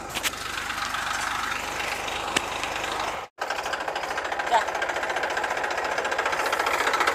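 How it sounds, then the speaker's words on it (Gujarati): A tractor engine runs steadily in a farm field near a wheat crop, its loud rattling drone continuous throughout, with a brief dropout midway and people talking over it. "તું ટ્રેક્ટર બંધ કર."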